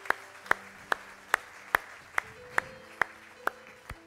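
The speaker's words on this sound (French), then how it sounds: "On applaudit les gens qui sont campés." Sharp hand claps land in a steady beat about twice a second, during a church service. They sound like a slow rhythmic clap rather than a full burst of applause, over a quiet room with no talking.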